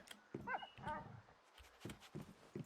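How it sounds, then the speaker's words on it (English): A dog in the survival game Once Human gives a few short barks and whines, close and fairly quiet, with soft footsteps and game sounds in between. "it is the neediest damn dog in the world"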